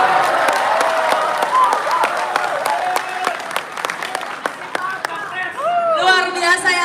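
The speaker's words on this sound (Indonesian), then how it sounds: "tepuk tangan untuk Kang Anies Baswedan" Loud crowd applause for Anies Baswedan at a discussion with university students, with sharp claps and cheering, and voices calling out over the clapping near the end.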